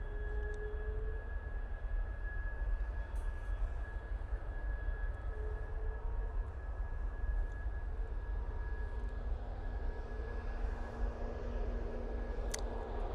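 Ryanair airliner landing at Manchester Airport, heard as a steady, distant broadband engine roar with a faint whine, constant throughout with no talk.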